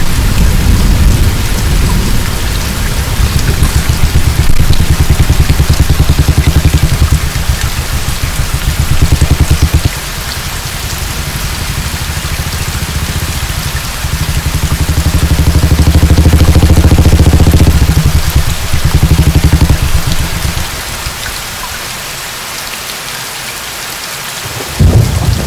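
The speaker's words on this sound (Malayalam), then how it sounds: "പെട്ടെന്നൊരു മഴയില്ലേ സാറേ?" Sudden heavy rain pours down hard and loud, with deep rumbles of thunder rolling through it in long waves.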